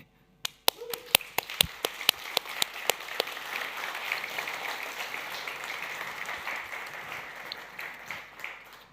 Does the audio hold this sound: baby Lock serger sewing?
no